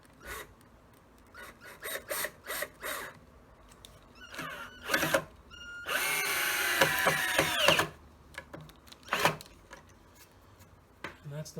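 A power drill drives screws straight through wood without pre-drilled holes while building a work horse, giving a couple of short whirring bursts with one sustained grinding run in the middle, amid clatter and scattered handling noises.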